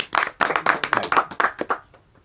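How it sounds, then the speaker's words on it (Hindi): At a Hindi poetry gathering in Bhiwadi held for World Radio Day, the audience gives a short burst of clapping that breaks into uneven rounds and fades out within a couple of seconds. "स्वागत है, एक बार तालियां।"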